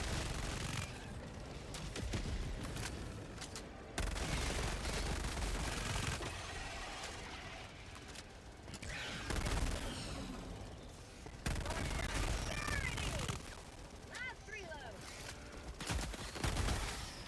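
Automated sentry gun in the game Helldivers firing repeated bursts amid a dense battle, with chattering gunfire, booms and mechanical clatter continuing throughout.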